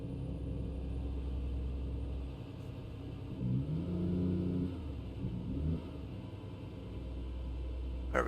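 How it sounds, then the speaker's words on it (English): Truck engine with the retarder braking in American Truck Simulator, hauling construction equipment through Nevada: a continuous low rumbling drone that swells into a deeper braking growl midway, then settles back to a steady hum. "Just letting the old retarder take care of it."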